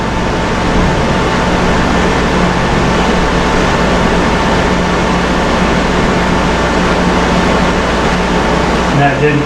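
A Gravee 14,000 BTU portable air conditioner switched to dry mode gives off a loud, steady whir and hum with a constant tonal drone, unchanging and close throughout.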